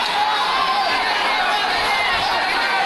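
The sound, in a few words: displeased stadium crowd during athletics start delay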